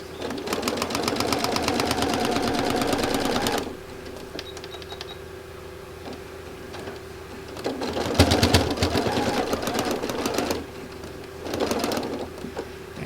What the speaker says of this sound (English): lock stitch and stop